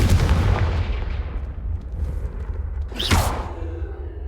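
A Confringo fire spell goes off in Hogwarts Legacy, a loud rumbling blast followed by a bright whooshing burst, with no voices.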